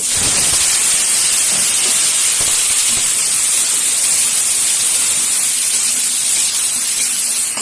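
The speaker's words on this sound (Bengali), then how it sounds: "আলুটা ভালো করে ভেজে নেব লাল লাল করে" Potato pieces frying in oil with dried chilli and black cumin, a loud, dense, continuous hissing sizzle held steady from start to finish with no pauses.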